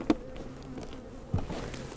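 Honey bees buzzing at an opened hive during a spring inspection, a low steady drone close by with a couple of soft knocks from the frames.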